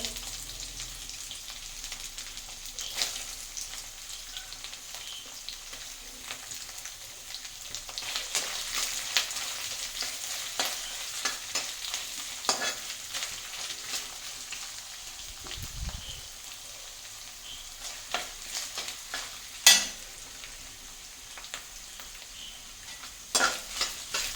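Steady crackling sizzle of coconut pieces frying in hot oil with fenugreek and mustard seeds, with occasional scraping stirs and clinks close by; no voices.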